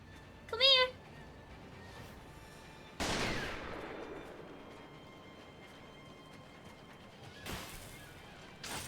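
A firecracker tool goes off in Sekiro: Shadows Die Twice as a sharp crackling burst, followed by a second burst later on, and a cat-like meow comes just before.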